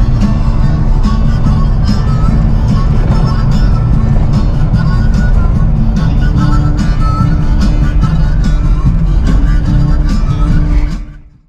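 A 2007 Jeep Wrangler JK Unlimited drives along, its engine and road noise forming a loud, steady low rumble that continues without a break until it cuts off at the very end.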